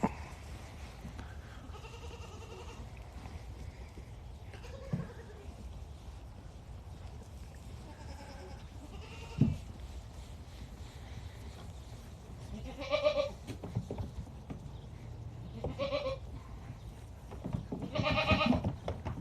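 Goats on a ranch let out several scattered bleats, some near and some farther off, over a low steady background hum with no talk.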